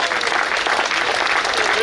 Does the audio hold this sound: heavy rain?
no